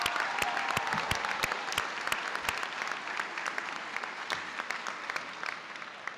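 A graduation crowd applauds the class of 2019, a lively wash of many hands with distinct sharp claps standing out throughout, sustained for several seconds.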